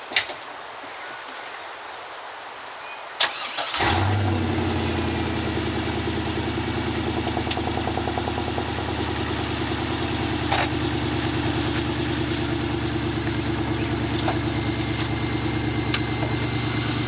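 A Camaro LS1 V8 engine cranks briefly and fires up, then settles into a steady, throbbing idle that continues close and even for the rest of the clip.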